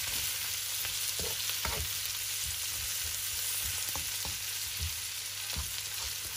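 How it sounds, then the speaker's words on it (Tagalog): Coconut milk poured into a pan of sizzling banana blossom with chili keeps up a steady frying hiss, with soft clicks and stirring knocks of a utensil throughout. "Lagay na po natin ang ating coconut milk."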